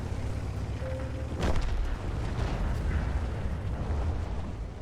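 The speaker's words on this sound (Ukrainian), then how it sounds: "Оце так бахнуло." A big blast in a tank battle video game, a sudden deep boom that rolls out into rumbling debris over steady low engine drone, with no voices.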